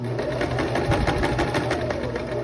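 A sewing machine drives a dress seam down past the pocket, a loud, close, unbroken motor whir with a fast rhythmic needle chatter throughout.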